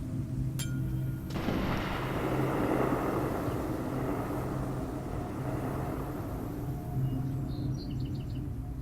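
A single gunshot, the second shot of a test, lands as one sharp loud blast after a faint click, then a long rumbling decay that fades over several seconds, with no talk.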